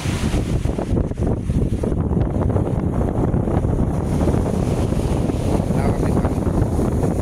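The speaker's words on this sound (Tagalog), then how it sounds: "Zambales, ito yung dagat nila." Strong sea wind and rolling surf on a wide sandy beach in San Felipe, Zambales, a continuous loud rush of wind buffeting close by with the wash of waves underneath and no pauses.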